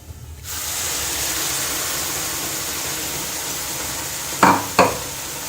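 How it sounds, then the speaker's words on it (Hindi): Tomato gravy poured into a pan of fried onions bursts into a steady loud hiss of sizzling, with a couple of sharp spoon or ladle knocks near the end. "अब हम इसमें टमाटर की जो हमने ग्रेवी बनाई हुई है वो डालेंगे।"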